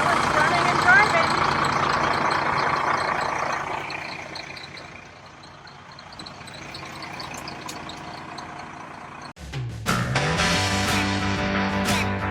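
An RV engine runs steadily with a low, continuous rumble, fading somewhat midway before a louder, harsher idle returns with more clatter near the end.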